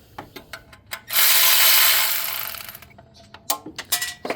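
A Milwaukee M12 power ratchet with a 10mm socket spins bolts off a 2011 Nissan Rogue during thermostat work, giving one loud sustained whir of about a second and a half. Short clicks and clatter of tools and bolts come before and after it.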